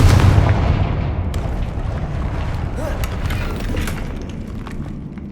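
The Confringo blasting spell explodes in Hogwarts Legacy, a loud booming burst that decays into rumbling crackle and scattered debris pops over several seconds.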